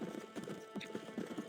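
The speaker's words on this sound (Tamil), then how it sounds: "எங்க நம்ம குதிரை வரட்டும்." Horse hooves clip-clopping in the Red Dead Redemption video game, a quick, steady, rhythmic trot heard close and fairly faint, with no talk over it.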